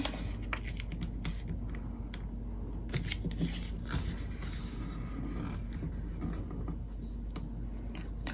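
A sheet of rose-coloured origami paper is folded in half, giving soft, close crinkles, creases and rubbing over a quiet, steady background hiss, with no voices.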